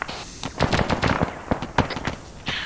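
Gunfire from an ArmA 3 platoon attack exercise: a ragged series of rifle and automatic shots, some close and sharp, others more distant, with no voices.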